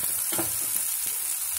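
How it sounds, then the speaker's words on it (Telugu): Small-chopped onion frying in a pan for a raw nettallu curry, a dense, steady sizzle with a few short stirring scrapes, close and clear and with no one speaking. "దీనికి ఆనియన్ వేయించుకుందాం"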